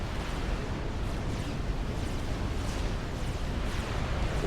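Oblivion turrets in the real-time strategy game Supreme Commander firing heavy blasts, a dense continuous roar of explosions and rumbling impacts, loud and sustained with no gaps.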